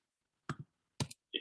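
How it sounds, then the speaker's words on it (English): Three quiet, close clicks of typing on a computer keyboard, the first two landing as paired taps, with silence between keystrokes. "It's just harder to do the typing and talking at the same time."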